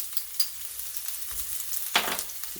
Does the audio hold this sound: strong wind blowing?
no